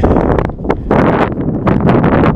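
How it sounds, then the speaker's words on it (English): Wind gusts buffet the microphone at a snow-covered Aconcagua base camp, a loud, continuous rushing roar with rough surges and brief dips. "With a bit of wind."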